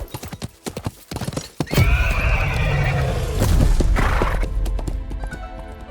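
Horses in a riding game charge off, hooves clip-clopping in rapid rhythm, with a loud whinny and heavy thudding gallop filling the middle of the stretch before it eases off.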